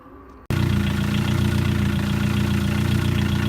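A Ford Focus Zetec engine cranks and catches, then settles into a steady, loud idle with an even low rumble that runs unbroken to the end.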